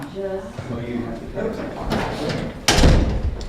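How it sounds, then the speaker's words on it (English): A door is shut in a glass soundproof room: one loud, sharp slam near the end, heard over a background murmur of voices and room noise. "I'm going to shut this door when I realize it's open."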